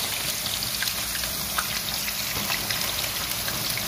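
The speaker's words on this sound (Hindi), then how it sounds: "पनीर को मैंने हल्का फ्राई करना है" Paneer pieces lightly frying in a pan produce an even, dense hiss that stays at a constant level throughout, close up and without speech.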